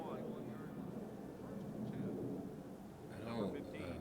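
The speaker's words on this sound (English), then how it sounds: "Sorry about the plane." Low-flying airplane rumbling overhead as a broad, steady roar that swells slightly near the end, heard over a background of people talking.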